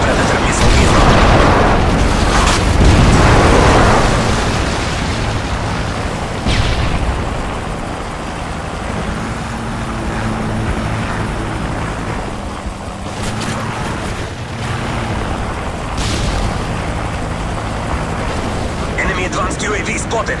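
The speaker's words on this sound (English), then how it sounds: "Friendly airstrike on the way." Airstrikes explode in a Modern Warfare 3 match, opening with heavy, rumbling blasts for the first few seconds. Softer booms follow over a sustained low roar, with a few sharp bursts later on.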